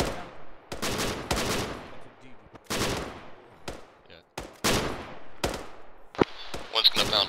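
Rapid machine-gun and rifle bursts of suppressive fire during a mechanised training event, repeated sharp volleys with short gaps between them, some close and loud, others slightly distant.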